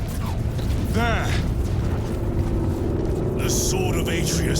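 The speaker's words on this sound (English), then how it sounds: "I hear engines." Engines rumble steadily in the video game Warhammer 40,000: Space Marine 2, a constant low drone with a rising whine and bursts of mechanical noise as voices speak over it.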